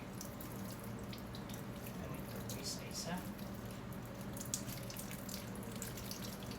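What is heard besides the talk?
running tap water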